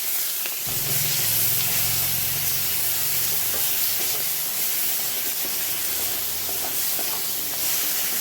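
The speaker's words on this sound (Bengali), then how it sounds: "আমি এখন সাদা জিরে দিয়ে দিলাম আর এখানে আমি মশলাটা দিয়ে দিলাম" Cumin and spice paste frying in hot oil in a wok make a steady, loud sizzling hiss throughout, with a faint low rumble near the start and no voices.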